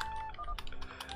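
Computer keyboard being struck hard, a quick cluster of sharp clicking taps over a faint background hum, close but fairly quiet.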